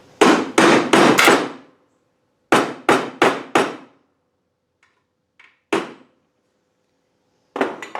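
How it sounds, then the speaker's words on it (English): Sharp metallic hammer blows flattening copper in bursts: a quick run of four strikes, a pause, four more, then a few scattered single taps, close and loud with no talking. "that's not really flat enough, so I'm going to take a hammer."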